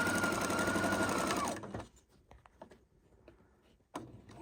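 A Husqvarna Viking sewing machine runs in a steady, loud whir for about a second and a half while quilting, then stops, leaving faint clicks and handling noises with a brief knock near the end.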